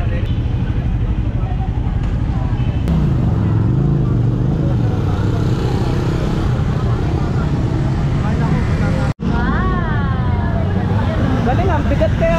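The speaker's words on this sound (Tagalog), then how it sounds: "Si Manyo nasa Benelli Imperiale 400cc." Benelli Imperiale 400cc motorcycle engine running steadily on a test ride at an outdoor moto fair, a continuous low rumble with some pitch rise and fall, heard under nearby talk and crowd noise, with one brief dropout near the end.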